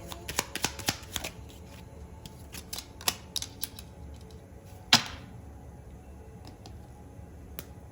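Tarot cards being handled and shuffled at close range: a quiet scattering of crisp card snaps and flicks, with clustered bursts early on and one sharper slap near the middle, then softer rustling.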